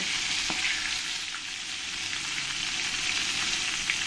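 Silver cup fish fry in oil with an even, continuous hissing sizzle, close and steady, broken only by a couple of faint pops and ticks, with no voices.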